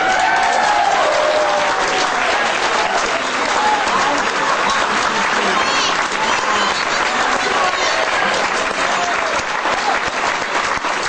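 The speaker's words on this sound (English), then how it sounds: "Now stand up and applaud all these kids." Loud, sustained applause from a standing audience at a convention gathering, cheering children on stage, steady dense clapping with crowd noise running the whole time.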